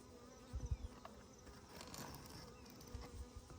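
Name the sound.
bees in a hive during a tree trunk rescue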